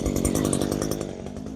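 An Echo powerhead weedeater's two-stroke engine, running a little rich, buzzes loud and close with a rapid, rough, chainsaw-like rasp that eases off slightly over a second and a half.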